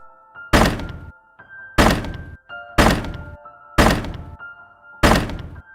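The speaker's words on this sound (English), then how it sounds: "That's when the banging began." Five heavy, booming thuds land about once a second against a wooden door, each one loud and close with a short ringing decay, and a faint tonal hum underneath.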